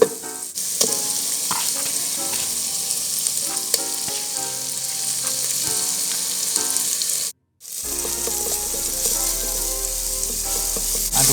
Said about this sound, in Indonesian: Jadi kita langsung masukin aja. Kita aduk-aduk biar rata.